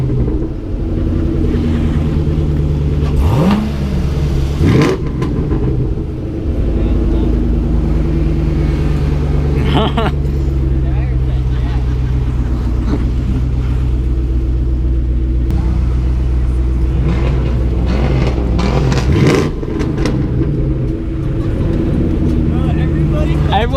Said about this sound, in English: Everyone's revving, bro.